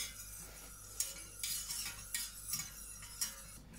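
Ice cream custard mixture thickened with cornflour is stirred in a pot, a quiet, repeated scraping of a utensil against metal in several short bursts, with no voices.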